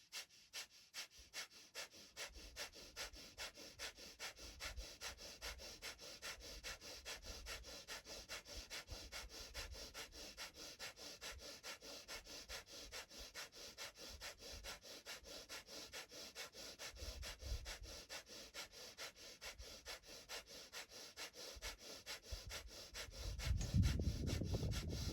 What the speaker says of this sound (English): we're going to do that breath of fire.